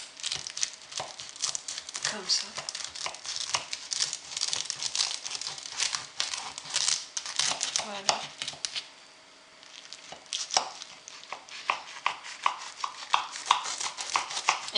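Brick pastry sheets for tajine malsouka being cut, a busy run of crisp crinkling and crackling snips close up, with a brief pause midway and a short spoken remark over it.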